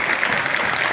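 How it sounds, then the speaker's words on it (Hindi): An audience at a Hindi poetry recital (kavi sammelan) in Rudrapur applauds for the poet's friend Shambhu, with dense, steady clapping that fills the whole moment at an even, loud level. "दोस्त शंभू के लिए तालियां बजा दीजिए"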